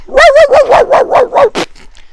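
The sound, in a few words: dog barking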